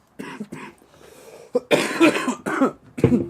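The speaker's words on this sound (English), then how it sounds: "Flour makes me cough." A burst of several harsh coughs in quick succession, triggered by flour, close and fairly loud, with no talking.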